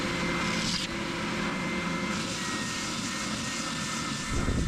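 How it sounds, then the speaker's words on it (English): A bench sander runs with a steady loud motor drone while taking down a wooden piece, the continuous whirring abrasive hum filling the whole stretch close up with no voices. "We're over here at the bench sander. We're gonna go ahead and sand that half right off."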